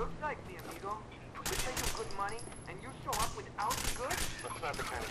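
Bursts of gunfire aimed at a sniper in Rainbow Six: Vegas 2, several rapid volleys cracking out in close succession while a voice talks over much of it.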